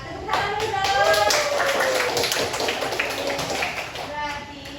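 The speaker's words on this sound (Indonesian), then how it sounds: "tepuk tangan dulu dong" A group of children claps on request during a science lesson about light, quick uneven patters of hands mixed with young voices talking and calling out over the clapping.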